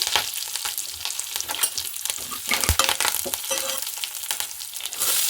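Mustard seeds, curry leaves and cumin sizzling in hot oil, a dense crackling fry with sharp pops and spatters throughout, close and fairly loud.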